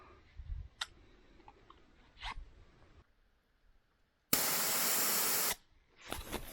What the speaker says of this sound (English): So I'm totally game to spray off that old can.